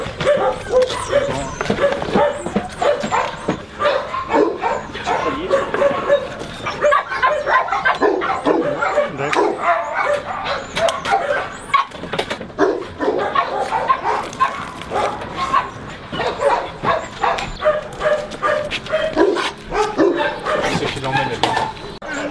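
Two Jack Russell terriers at an animal shelter bark, yip and whimper almost without pause. The barking is close and busy, and people talk beneath it.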